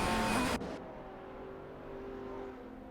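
A Koenigsegg CCGT race car in a racing video game whines past, its loud engine tone cutting off abruptly and giving way to a quieter, steady engine hum.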